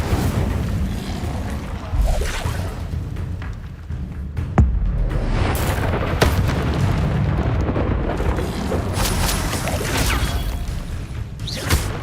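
Incendio fire spell explosions in a Harry Potter game, a long stretch of roaring, whooshing fire bursts with several sharp cracking hits and booms, loud and continuous throughout.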